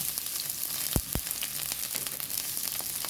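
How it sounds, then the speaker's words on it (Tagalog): Pork hock sizzles steadily in a hot pan while being sautéed with garlic, a dense close frying hiss throughout with a couple of sharp pops near the middle. "Igigisa muna natin yung pata."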